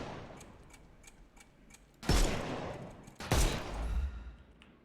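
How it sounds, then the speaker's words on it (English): Two loud gunshots in Sherlock Holmes: Chapter One, each a sharp blast with a lingering rumbling tail, about a second apart, after a stretch of quiet ticking. "Shoot off their armour."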